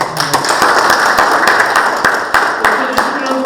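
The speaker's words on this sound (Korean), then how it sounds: "시장님께 큰 박수로 먼저 어, 드리는 게 어떨까 싶습니다" Audience applause for the mayor at a farm policy meeting of the Yeoju city council, a dense crackle of many hands clapping steadily throughout, with occasional sharper individual claps standing out.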